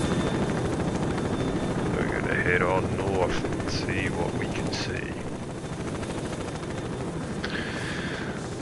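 A helicopter in the game STALKERSOUP drones loudly and steadily throughout, a dense thrumming rotor and engine noise that never lets up, with someone talking over it for part of the time.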